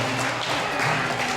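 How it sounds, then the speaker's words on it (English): Elementary school children at an assembly applaud together, a dense, continuous clatter of many small hands clapping, moderately distant and steady across a brief moment. "Give a round of applause, guys."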